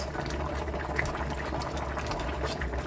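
Cameroonian tilapia pepper soup with njangsang bubbles steadily in a pot while being stirred, a constant low simmering churn with soft liquid gurgles and no talking.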